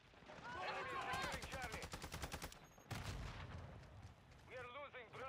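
Rapid bursts of gunfire and artillery-like blasts in a military shooter game, loud and close, firing in dense rhythmic volleys with a brief gap near the middle, while voices and radio chatter run underneath.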